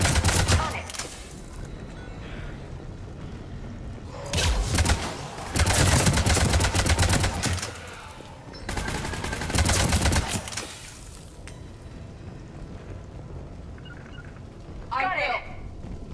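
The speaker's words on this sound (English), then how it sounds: "Foxtrot and Bravo are taking heavy fire." Heavy gunfire in Mass Effect 3 comes in loud, dense bursts of rapid automatic shots separated by quieter stretches, with battle noise continuing between volleys.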